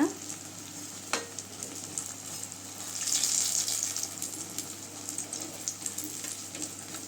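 Eggplant pieces frying in hot oil for kathirikai 65 crackle in a steady, close sizzle, with a brief clunk near the start and a swell of bubbling partway through, no speech.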